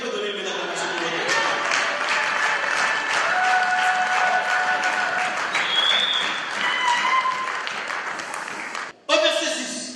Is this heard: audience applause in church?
yes